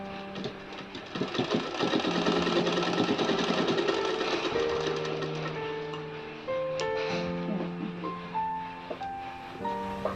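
A sewing machine stitches a hook strip onto a blouse, with close rapid mechanical ticking runs that pause and restart, plus a steady faint hum.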